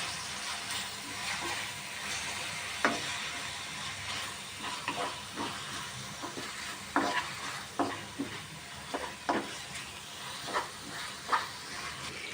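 Green chili paste being stirred into an aloo matar pulao mixture in a pan, with a soft frying hiss beneath a string of distinct spoon scrapes and taps every second or so, close and fairly quiet.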